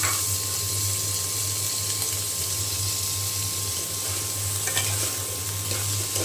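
Potatoes dropped into a pan of fried onions sizzle steadily in hot oil, a constant close frying hiss with a faint steady hum and a few light stirring clicks, no talking.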